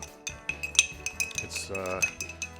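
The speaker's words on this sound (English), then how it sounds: "Now, give it a good stir." Metal bar spoon clinking against a mixing glass while stirring a gin Tom Collins cocktail, quick bright chimes and taps close up, irregular strikes over about two and a half seconds.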